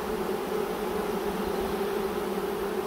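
A dense swarm of honeybees buzzes steadily, a constant hum from many insects that neither pauses nor fades.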